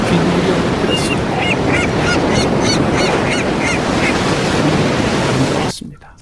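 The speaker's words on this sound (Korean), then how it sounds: "바닷가에 앉아 어린 시절에 듣던 파도 소리, 갈매기 소리, 자연의 소리를" Ocean waves wash steadily against a seaside shore while a few seagull calls ring out repeatedly through the middle stretch, then the surf drops away abruptly near the end.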